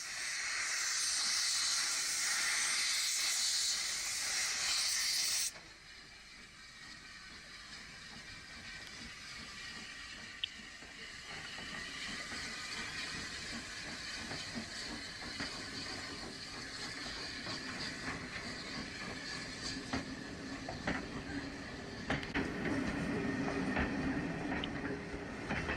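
A steam locomotive hissing at an Easter steam gala: a loud, close blast of escaping steam for several seconds, then a quieter ongoing hiss with rail rumble and clicking.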